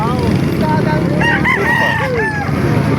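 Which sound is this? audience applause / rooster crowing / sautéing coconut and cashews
rooster crowing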